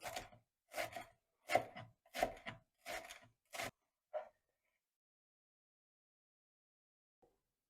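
A knife chops the green leaves of fresh parsley for Mersin-style tantuni, striking a board in about seven quick, evenly spaced cuts, then one last chop before quiet.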